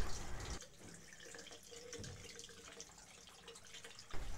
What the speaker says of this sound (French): Elle utilise de l'eau du robinet et s'assure que la température est à 40 degrés.